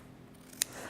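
A single short snip of scissors trimming a piece of card during Christmas tree stamping crafts, crisp and close in an otherwise quiet room.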